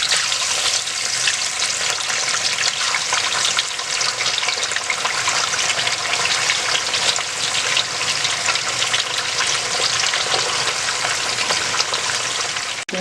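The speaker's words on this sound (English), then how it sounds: "I'm just going to start frying my fish" Fish and onion frying in hot oil, a steady dense sizzle with continuous crackle that stays loud and even throughout with no talking.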